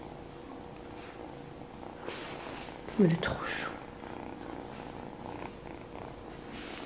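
A pet cat purrs quietly and steadily nearby while someone talks over it in French, with a brief louder handling noise in the middle.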